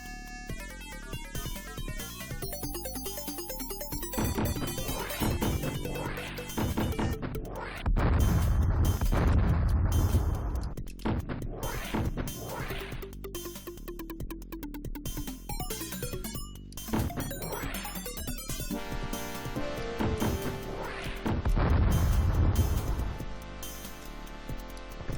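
Missiles firing and exploding in the space combat game Traffic Department 2192: a dense, chaotic stretch of booming blasts, crashes and whooshes layered over game music, with heavier explosion bursts near the middle and end.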